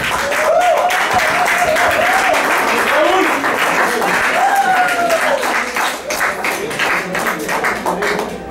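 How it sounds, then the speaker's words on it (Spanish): An audience applauds a poet at a reading, steady broad clapping through the whole stretch with a voice speaking over it. "un aplauso para él, por favor"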